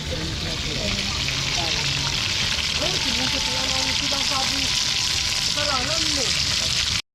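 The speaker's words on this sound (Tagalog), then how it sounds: "So guys, nagpiprito si mama ng isda." Fish sizzling and crackling steadily in hot oil the whole time, close and loud, with voices talking quietly underneath.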